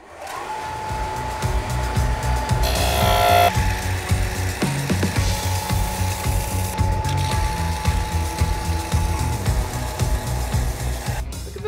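A grinding wheel shapes a wooden cube into a rough rock form, giving a continuous close whirring grind with brief harsher bursts as it bites into the piece.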